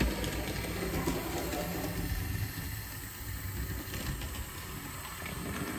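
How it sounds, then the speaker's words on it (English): A small model steam locomotive running laps on a layout track, giving a steady low rumbling whir with faint hiss that continues unbroken, close by and fairly quiet. "Nice little train."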